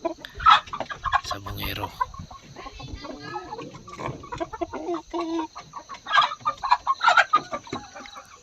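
Young four-month-old Shamo Aseel stags clucking near at hand in short irregular bursts, with someone talking over them at times.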